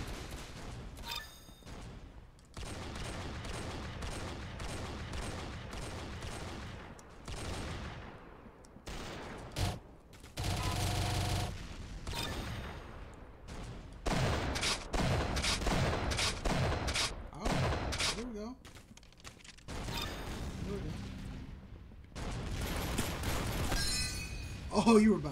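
Gunfire in the Roblox shooter Arsenal crackles in rapid volleys and bursts, loud and close, with short pauses between strings of shots and a voice now and then underneath.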